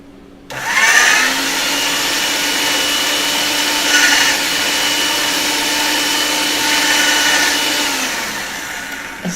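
A machine rolls polymer clay for a crocus flower cane, its steady, loud motor whir starting abruptly and running evenly for several seconds before fading, with no talk.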